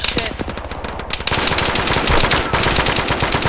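Sustained automatic gunfire from an Arma 3 firefight, a dense unbroken stream of loud rapid bursts that intensifies after the first second and continues to the end, with no talk over it.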